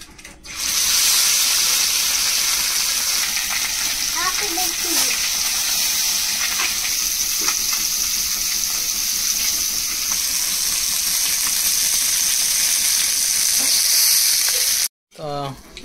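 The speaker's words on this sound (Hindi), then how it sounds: "एबे देखो तो हमरो माछ भजा हो जाई छी" Fish frying in a pan, a loud, steady hiss and sizzle of hot oil that runs unbroken for the whole stretch, close up, with faint voices underneath and a brief cut near the end.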